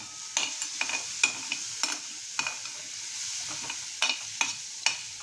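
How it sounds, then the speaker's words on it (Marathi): A spoon scrapes and stirs chili garlic sweet corn in a hot pan, with repeated sharp clacks against the metal at an uneven rhythm over a steady soft sizzle, close and clear with no talking. "छान असं ढवळून घ्यायचं"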